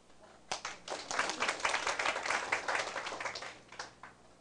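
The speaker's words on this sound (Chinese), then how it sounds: "您是拍手啦。" An audience at a seminar lecture breaks into applause: a sudden start, then several seconds of fairly faint, busy clapping from many hands that tapers off.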